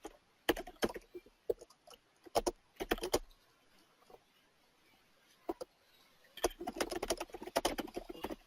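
Someone types on a computer keyboard in irregular clusters of quick, close clicks separated by pauses, with a denser flurry of keystrokes near the end.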